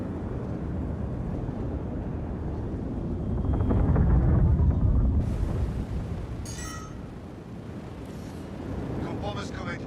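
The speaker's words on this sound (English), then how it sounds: "Got bombers coming. You gotta take them out before it's too late." Bombers attack in a video game with a deep droning, rumbling roar that swells to a peak and then eases off, overlaid by sharper bursts and a voice talking.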